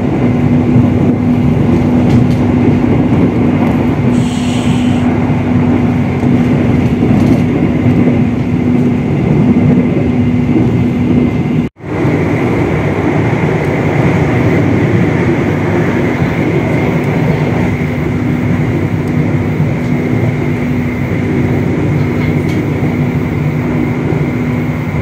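The KA Argo Wilis passenger train speeds along the rails at up to 120 km/h. A loud, steady rumble and rush of wheels on track goes on throughout, with one brief sharp dip midway.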